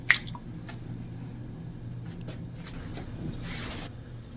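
Raw monkfish pieces are dropped into water to soak, giving soft, close wet squishes and light drips and splashes, quiet and intermittent with no talk.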